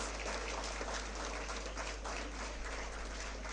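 A dense round of applause from a business school audience honoring the panelists, even and sustained with no gaps, moderately loud over a low electrical hum.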